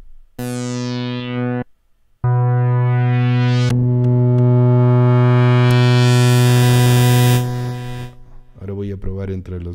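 A hardware synthesizer plays sustained harmonic tones whose timbre shifts as MIDI programs are switched, moving from a clean held note through a brief gap to brighter, buzzier patches, then a softer plucked pattern, with no voices.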